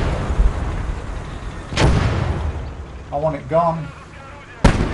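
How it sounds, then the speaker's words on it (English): Mortar rounds in the WWII strategy game Gates of Hell: Red Star Rising land as two sharp, loud blasts, one mid-clip and one near the end, with someone speaking briefly between them. "There's a mortar somewhere out there."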